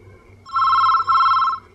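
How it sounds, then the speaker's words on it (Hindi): A telephone rings twice in quick succession, a bright electronic trill that stops abruptly, with a faint low hum underneath. "चलो फोन उठाओ"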